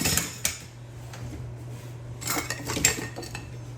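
Metal kitchen utensils and measuring scoops clatter and clink as someone rummages through a drawer, with a couple of sharp jangles early and a louder burst of rattling toward the end.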